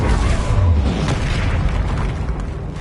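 A Bombarda explosion spell in Hogwarts Legacy lands as a loud, close boom with a deep rumbling burst that decays over a few seconds amid scattered debris-like crackles.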